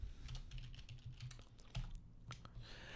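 An AutoCAD command is typed on a computer keyboard: a quick, close run of light key clicks over about three seconds, with a few sharper taps and no voice.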